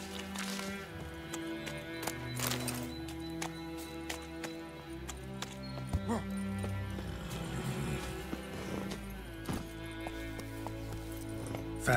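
Roach the horse gallops in The Witcher 3, with soft rhythmic hoofbeats running under layered game music and ambience throughout.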